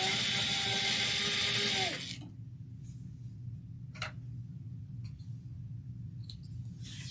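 A sewing machine backstitches a seam on a shoulder bag in a quick, close whirring burst that stops abruptly, then gives way to quiet handling and a few faint clicks.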